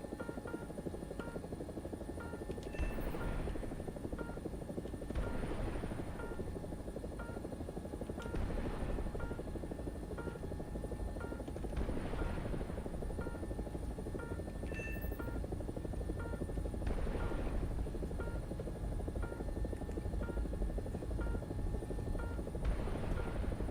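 A helicopter in a combat flight simulator drones steadily with a constant rotor hum and a periodic swelling whir, holding at an even level for the whole stretch with no talk.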